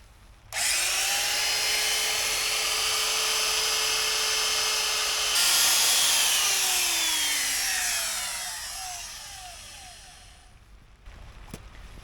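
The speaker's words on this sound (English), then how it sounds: "I'll go get my router and we'll have to recess this in a little bit." A handheld router cuts a recess into wood for a greenhouse build, a loud, steady high-pitched whine lasting about ten seconds, its pitch shifting partway through as the bit bites, then spinning down to silence.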